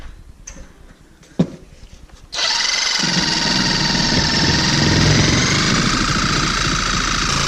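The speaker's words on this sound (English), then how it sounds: "what I'm gonna do now is basically take my Sawzall" Sawzall reciprocating saw cutting sheetrock, preceded by a few quiet clicks and a sharp knock, then starting abruptly into a loud, continuous buzzing rattle that runs steadily close by.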